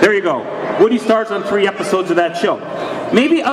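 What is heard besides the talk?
No everyday noise stands out behind the speech.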